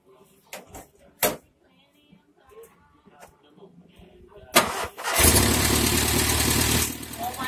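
A Morris Minor engine, just converted to a new carburetor, cranks and catches after some clunks and handling noises, then settles into a loud, steady running rumble close by.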